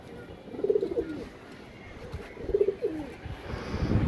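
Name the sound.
pigeons cooing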